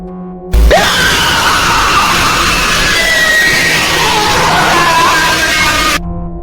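Loud, distorted screaming from a video game world bursts in suddenly, a harsh, noisy wail with wavering pitch held for about five seconds before cutting off.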